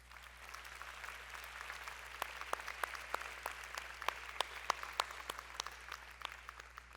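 A civic audience at a town New Year's greetings ceremony in Cavalaire claps for police officers and gendarmes, a sparse, faint patter of individual claps heard from a distance over a low steady hum.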